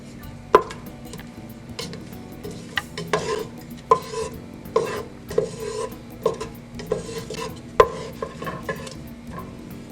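Dry fideo noodles and onion frying and being stirred in a hot pan, with a steady sizzle under a string of sharp scraping, rasping strokes roughly every second, close up and with no talking.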